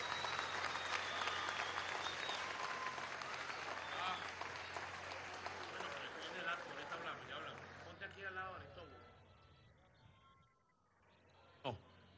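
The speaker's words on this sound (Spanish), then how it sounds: "Un aplauso a Diego." Crowd applause for a four-year-old boy at an outdoor public event in Guanta, a dense steady clapping wash lasting most of the span with voices mixed in, then fading out, followed by one sharp loud knock near the end.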